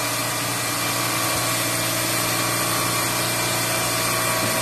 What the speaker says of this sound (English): So I'm going to turn on D1 for my circuit on this compressor.